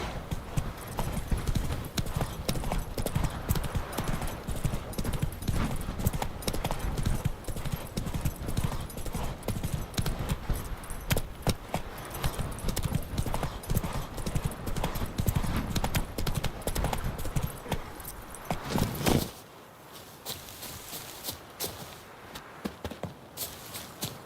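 A horse gallops in The Witcher 3, with rapid, dense hoofbeats pounding steadily at close range for most of the run, then slowing to a sparse few clops near the end.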